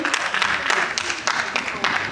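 Audience applause at an ombudsman graduation ceremony, a steady patter of clapping hands rising and falling in bursts across the whole stretch, fairly close and full.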